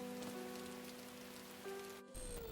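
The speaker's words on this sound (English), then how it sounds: "Ire kisses Kotoko in Rain in Itazura na Kiss" Steady rain falls on a surface in a scene from the romance anime Itazura na Kiss, a soft continuous patter with a brief dip near the end before the downpour resumes.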